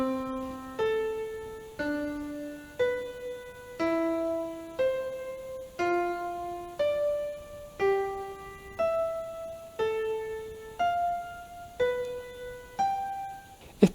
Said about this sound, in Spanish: Veamos entonces cómo suena el intervalo de sexta.